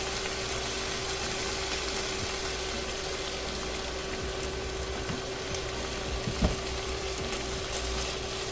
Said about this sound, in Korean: 기름에 달달 볶아줍니다